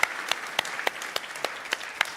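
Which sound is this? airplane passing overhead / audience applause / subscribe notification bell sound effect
audience applause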